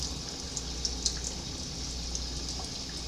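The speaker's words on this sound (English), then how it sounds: "I'm just rinsing off anything that may be back on there" Water runs gently from a tap while plants are rinsed for aquascaping and hydroponic propagation, a faint, steady trickle with a few soft drips, no voices.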